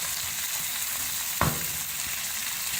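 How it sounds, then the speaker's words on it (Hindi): Mutton frying in a pan on high heat, a steady loud sizzle throughout with one sharp clatter of stirring partway through, no voices. "तेज आंच पे फ्राई करना है।"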